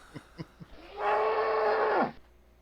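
A person imitates a cow, holding one loud, sustained moo of about a second after a few short vocal sounds.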